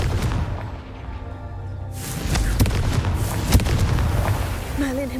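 Confringo fire spell blast in Hogwarts Legacy, a loud, near, rumbling explosion that swells after a quieter start and rolls on with crackling bursts and booms, with a voice briefly heard over it.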